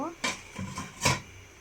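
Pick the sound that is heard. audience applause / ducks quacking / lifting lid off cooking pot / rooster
lifting lid off cooking pot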